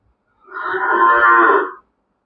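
A single HF cow in its first lactation, offered for sale, lets out one loud, close moo lasting over a second, with silence before and after.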